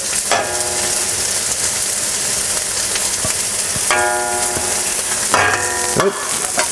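Loud, steady sizzling and crackling from jalapeños frying in a hot pan, with occasional sharper pops and scraping.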